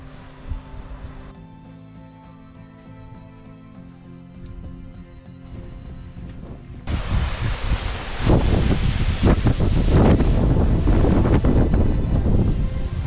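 Gusty wind on a cliff along the Bright Angel Trail buffets the microphone, quiet at first then suddenly surging into loud, rough blasts that continue to the end.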